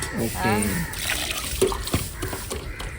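Water is poured into milk, about four tumblers' worth, a close, liquid gurgling and trickling stream under a person talking.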